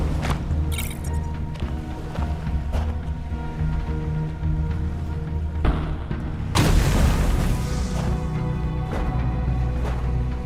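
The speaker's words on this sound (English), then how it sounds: "Let's do a quick play with this rocket launcher here." A rocket launcher fires in the video game Cubic Odyssey, producing several deep booms over a constant rumbling background, with the biggest blast a long, roaring explosion partway through.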